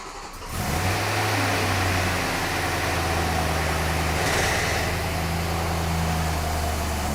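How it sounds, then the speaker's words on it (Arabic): A BMW M3 with a rebuilt S65 engine cranks and catches, then settles into a steady, smooth idle that hums on without interruption. "دخل العربية وشغل المحرك واشتغل معاه من أول مرة"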